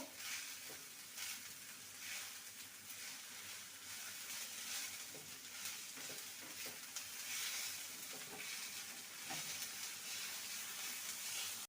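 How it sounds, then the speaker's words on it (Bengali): Shredded cabbage frying in a pan gives a continuous close sizzle, with repeated scraping and clattering from stirring throughout. "আর দিয়ে দেবো সামান্য বাঁধাকপি কোচানো ভালো করে নেড়ে নেবো"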